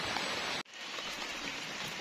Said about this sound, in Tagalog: mamadaliin ko na to po kasi lumalakas yung ulan